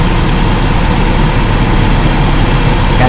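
A car engine idles at low RPM, a loud, steady, close rumble with even low vibration and no talk over it.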